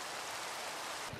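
Rain falls in the Minecraft video game as a faint, steady hiss of drops, soft and even throughout with no voices.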